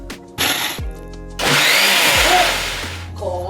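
A mixer grinder whirs loudly in short bursts and then one longer run as it grinds tomato kuzhambu ingredients, a harsh buzzing roar close by with brief pauses between pulses.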